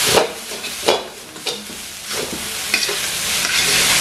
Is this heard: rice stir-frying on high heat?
yes